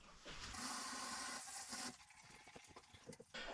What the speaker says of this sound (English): I could wash my hands